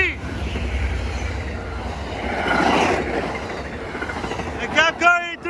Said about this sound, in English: All right, folks, here comes San Joaquin train 711.